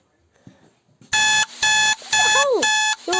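An American Emergency Alert System alarm tone sounds in loud, steady blasts, about four bursts separated by short gaps, with faint speech and rustling before it starts and a voice briefly talking between the later tones.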